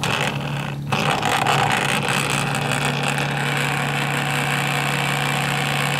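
A homemade wall wart synchronous motor spins up and runs with a steady electrical hum and buzz, loud and close, holding an even drone throughout with no speech.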